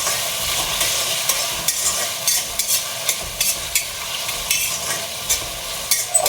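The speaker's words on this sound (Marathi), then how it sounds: "तुपामध्ये छान असे बटाट्याचे काप मऊ दिले ना, छान लागतात साबुदाण्यामध्ये." Potato slices frying in ghee with sabudana, a steady close sizzle overlaid by repeated scraping stir strokes at a fairly regular pace, with no talking.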